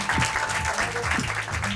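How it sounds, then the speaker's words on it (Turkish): Audience applause at a quiz night event, steady dense clapping throughout with low-level voices and some background noise mixed underneath. "Alkışlıyoruz beyefendiyi"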